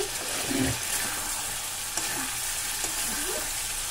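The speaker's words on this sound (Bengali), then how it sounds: "দেখো ভালো করে কষিয়ে নিচ্ছি" Spice masala sautéing in hot oil while being stirred, a constant bright sizzle with soft scraping strokes of a spoon at intervals, close and alone.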